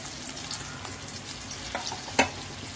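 Chopped onions frying in a pan for fish curry, a steady soft sizzle with light stirring scrapes and a sharp utensil clink near the end, faint and close.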